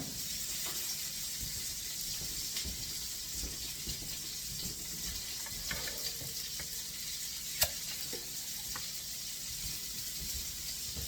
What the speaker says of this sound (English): I'm going to continue browning these